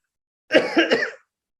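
A single short cough burst, two or three quick hacking pulses close to the microphone, isolated in silence.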